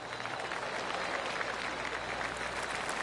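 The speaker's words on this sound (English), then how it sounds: "I can hear the golf claps around the course" Gallery crowd gives polite golf applause around the course at the Tour Championship at East Lake Golf Club in PGA 2K25, a steady patter of many hands clapping at a distance, moderately quiet and continuous throughout.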